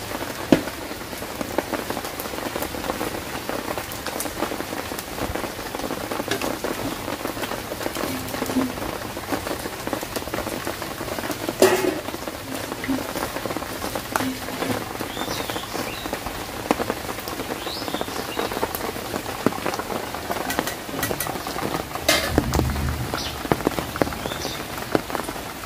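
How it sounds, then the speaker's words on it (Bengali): Steady rain pours outdoors, a dense continuous patter on surfaces with scattered heavier drops and occasional louder splashes, close and unbroken for the whole stretch with no voices. "বৃষ্টি দেখেন অবস্থা, এই যে জল টল হয়ে গেছে।"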